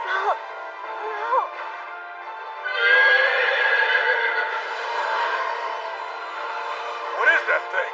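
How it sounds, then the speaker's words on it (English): An anime horse and a Yoi spirit howling together in a drawn-out duet, whinny-like cries at the start and end around a long sustained wavering tonal call, loud and alone. "Looks like that horse and that Yoi are howling to each other like they're singing some kind of duet."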